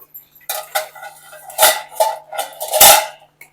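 A lid comes off a pot of cauliflower curry and a spoon stirs it, making a close series of loud metallic clanks and scrapes with brief quiet gaps between them.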